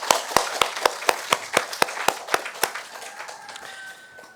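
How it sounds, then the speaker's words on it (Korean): A church congregation claps in unison, about a dozen sharp, evenly spaced claps that loosen into scattered applause and fade, with a faint tone lingering near the end. "우리 하나님께 영광의 박수 올려드리십시다."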